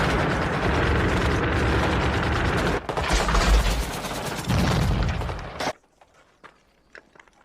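Sustained heavy gunfire from a sniper gunfight in a Vietnam war film, loud dense bursts and rumbling impacts for several seconds, then cutting abruptly to near silence with a few faint scattered clicks.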